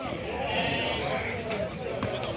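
Sheep for sale at a goat and sheep livestock fair in Canafístula de Frei Damião, Alagoas, bleating close by amid a busy crowd, with people talking throughout.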